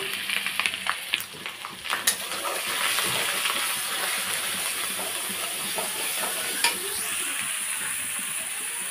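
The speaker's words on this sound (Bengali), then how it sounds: "তো ফোড়নে দিয়ে দিচ্ছে গোটা জিরে" Whole cumin seeds and spices sizzle steadily in hot oil for a Bengali prawn dish, a dense close hiss with brief stirring clatters and no talk.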